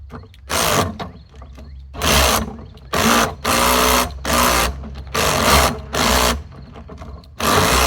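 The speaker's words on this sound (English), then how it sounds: "This drill is absolutely horrendous." An electric drill whirs in repeated short bursts, starting and stopping about a second at a time, loud and close with no voices.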